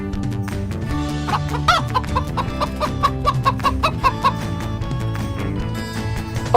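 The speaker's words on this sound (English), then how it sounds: "Yellow chicken." A chicken clucks in a string of short, rhythmic calls layered over steady background music, moderately loud and close, from a children's animal-learning sequence.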